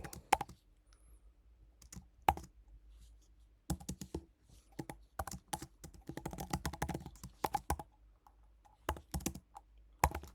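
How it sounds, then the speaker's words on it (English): Close-up typing on a computer keyboard comes in irregular bursts of rapid key clicks, broken by short pauses of near silence. "Let me type it first and then explain."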